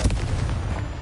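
A Confringo blasting curse from Hogwarts Legacy goes off as one loud, close explosive boom, followed by a rumbling, crackling tail lasting about a second.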